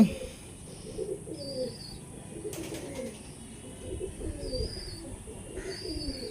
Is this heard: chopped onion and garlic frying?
no